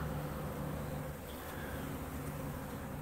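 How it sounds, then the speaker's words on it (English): Honeybees hum around an open hive during a beginner keeper's inspection, a soft, steady, continuous drone throughout with no voices. "brush my bees off the top here so that I don't crush my bees"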